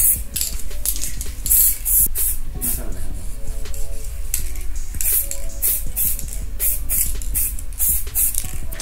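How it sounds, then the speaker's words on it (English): Repeated short bursts of aerosol 3D-scanning spray hiss close by, coming in quick pulses with brief gaps, over a steady background hum. "I'm gonna spray this scanner down"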